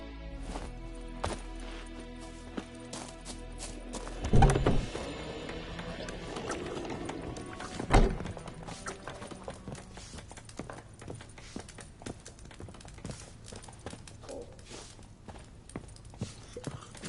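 Hooves of Roach, a horse in The Witcher 3: Wild Hunt, clop steadily at a walk or trot, with two louder thumps early on, all under a bed of game music and ambience.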